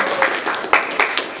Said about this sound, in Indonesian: tepuk tangan untuk Mbak Koni atas jawabannya